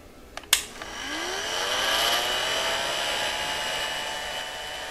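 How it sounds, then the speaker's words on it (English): A heat gun blowing hot air onto a car audio fan thermo switch gives a steady whooshing roar that starts abruptly after a couple of sharp knocks and holds at a moderate level throughout. "I'll use my heat gun to heat this thing up"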